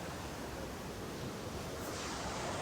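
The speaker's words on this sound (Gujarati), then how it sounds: "પાણીનો ખળખળ અવાજ જે તમે સાંભળી શકતા હશો" River water rushes beneath a small stone bridge in a village in Snowdonia, Wales, a steady, faint broadband wash that carries on unbroken throughout.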